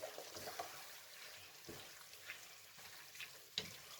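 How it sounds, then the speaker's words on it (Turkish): Pasta sauce being stirred in a pan over a very low flame, a soft scraping swirl over faint sizzling with a few sharper utensil knocks, fairly quiet and without talk. "Şimdi arkadaşlar bu sosu güzelce karıştırıyoruz."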